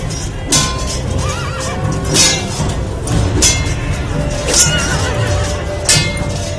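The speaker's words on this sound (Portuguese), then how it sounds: "o relinchar de um cavalo em dor" Horses neighing in pain amid a staged ancient battle scene, several loud shrill whinnies repeating over a dense din of clashing metal, clinks and crowd noise.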